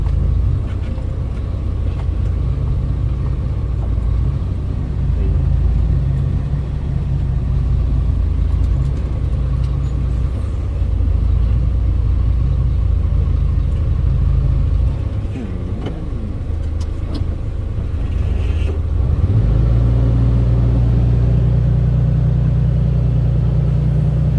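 A six-wheel dump truck's Isuzu 6HK1 diesel engine rumbles steadily and loudly at close range, its low drone rising in pitch near the end, with faint voices underneath.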